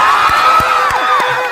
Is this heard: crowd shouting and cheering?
yes